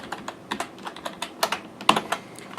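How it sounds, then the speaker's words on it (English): Typing on a computer keyboard, a run of quick, uneven key clicks close by with no voices. "so I'm going to use the keyboard."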